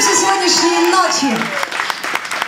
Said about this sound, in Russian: улыбаемся, хлопаем, хлопаем и радуемся сегодняшней ночи